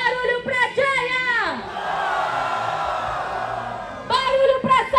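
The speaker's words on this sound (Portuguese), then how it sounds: "Barulho pra Jaya!" A live rap battle crowd roars and shouts in support of rapper Jaya, a loud sustained wall of cheering and whooping between bursts of amplified voices calling out over it.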